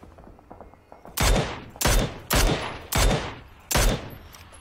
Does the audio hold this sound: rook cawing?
no